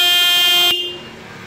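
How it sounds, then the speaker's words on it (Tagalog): A Denso compact single car horn, fitted as an upgrade, blares one loud, steady, bright tone lasting under a second, then cuts off abruptly and leaves a short fading tail. "So busina."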